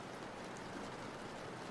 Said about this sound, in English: Just rain. Only rain.